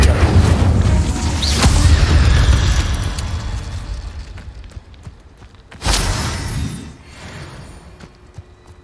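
Fiery spell blasts burst out in a Harry Potter video game, a loud boom near the start with rumbling energy, then a second sharp burst later that fades into a lingering whoosh.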